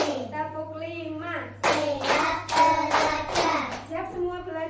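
Children in a preschool classroom clap hands along with a counting clap game, a series of sharp, close claps in quick bursts mixed with young voices chanting and talking.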